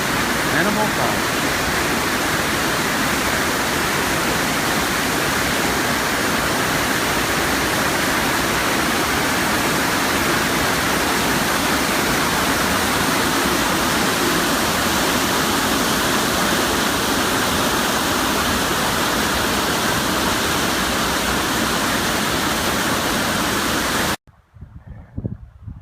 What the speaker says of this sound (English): what's a hike without a beautiful waterfall?